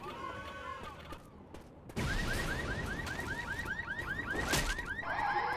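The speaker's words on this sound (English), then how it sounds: "Interesting that that car alarm goes off." Car alarm in the Left 4 Dead video game blaring a repeating rising whoop pattern after a sudden loud onset, over dense game noise with bursts resembling gunfire.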